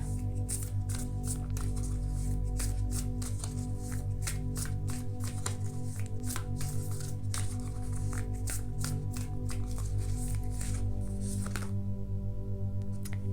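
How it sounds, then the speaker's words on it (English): Tarot cards being shuffled from several decks, a steady series of soft riffling snaps and flicks close by over a constant low background hum, with no voice. "let me just shuffle all the cards and then I'll channel the energies"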